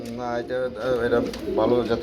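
Pigeons coo in soft, repeated warbling phrases close by, with a person talking over them throughout.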